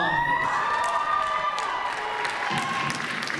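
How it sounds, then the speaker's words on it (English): Applause from an audience after a dance performance, steady broadband clapping mixed with cheering and crowd noise, fairly loud and continuous under sustained tonal sounds. "One more round of applause."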